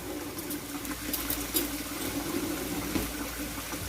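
Warm tap water pours steadily for a few seconds into a container, a continuous close splashing trickle with no voices.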